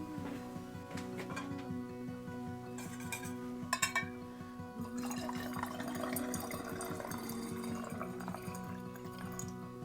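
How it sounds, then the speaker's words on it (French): Cooled syrup is poured into a homemade elderflower liqueur mixture with a soft, continuous liquid trickle and a couple of small glassy clinks, close and quiet. "donc je vais pouvoir l'incorporer au mélange"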